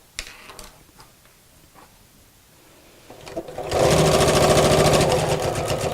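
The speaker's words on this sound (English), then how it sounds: "I'm going to sew all the way down this crease line and stop here." A sewing machine stitches fabric along a crease line, starting after a few quiet seconds of small handling noises and then running in a fast, steady, close mechanical rattle to the end.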